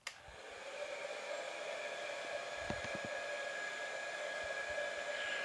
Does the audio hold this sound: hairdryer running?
yes